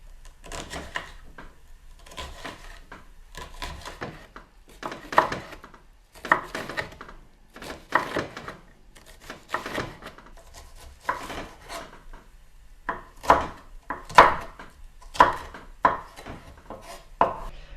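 Knife chopping food on a cutting board: steady bursts of quick, crisp taps, close and clear, with short pauses between runs, no talking.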